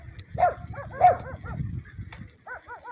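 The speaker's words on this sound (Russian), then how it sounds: "Смотрите, вот одни собаки бегают." Dogs bark in a war-damaged village in Belgorod region, Russia: several loud, close barks, a pause filled with low rumble, then a quick run of yelping barks.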